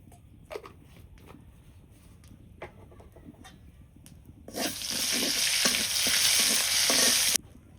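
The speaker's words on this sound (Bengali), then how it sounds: "তেল দিয়ে দিছি, কটা আস্ত জিরে দিয়ে দিই" Whole cumin seeds dropped into hot oil in a wok burst into a loud, steady sizzle after a few seconds of quiet clinks, the frying hiss holding strong before cutting off abruptly.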